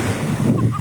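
Sea waves wash against the shore while someone net fishes, a steady roar of surf with wind rumbling on the microphone, close and continuous with no talk.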